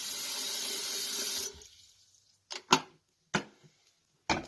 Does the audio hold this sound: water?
yes